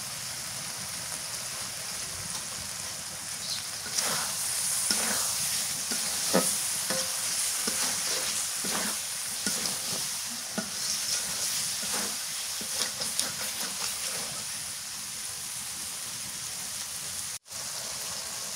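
Spices sizzling steadily in fish oil for a pangas curry, with a constant frying hiss and intermittent scraping of stirring throughout.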